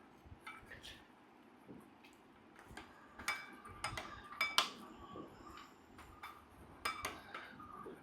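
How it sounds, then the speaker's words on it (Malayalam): A spoon stirs hazelnut drinking chocolate in a cup, with soft, quiet clinks and scrapes at an uneven pace, some sharper taps coming in small clusters over a low background. "ഇത് ഫ്രഷായി ഇളക്കണം"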